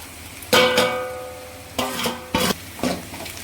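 Masala hitting a hot pan and being stirred while cooking a manathakkali keerai dish, with bursts of sizzling and scraping strokes of a spatula in several separate close, fairly loud passes and quieter frying between them.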